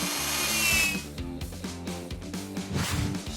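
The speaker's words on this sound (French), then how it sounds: "Au travail, ma perceuse adorée. On va mettre toutes ces vis." A power drill whirs in stuttering bursts, its motor pitch rising and dropping as it drives in screws, fairly close.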